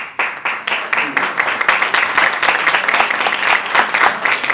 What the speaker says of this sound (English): It's sad that we even have to clap about it